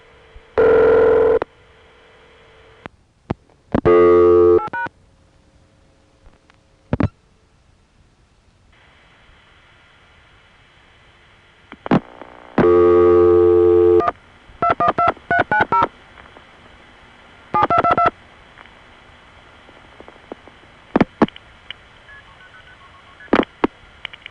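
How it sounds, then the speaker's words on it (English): A New York City telephone line's dial pulsing gives off a strange echo, with clusters of short tone bursts and clicks separated by a faint steady line hum and near-silent gaps. "you would get a strange echo effect on the dial pulsing"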